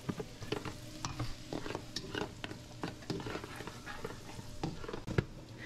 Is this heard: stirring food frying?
yes